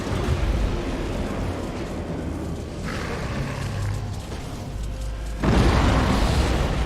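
Nova Cannons firing in the Battlefleet Gothic Armada II space combat game, deep booming blasts over a dense rumbling battle din, with a heavy surge near the end.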